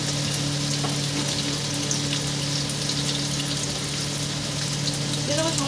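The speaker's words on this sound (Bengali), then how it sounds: "ছোটো ছোটো করে কেটে নিয়েছি, নিয়ে ভাজতে দিয়ে দিয়েছি আলুটা" Small diced potatoes fry in oil in a pan for a Bengali chicken mocha dish, giving off a steady, dense sizzle that crackles evenly and close up throughout without a break.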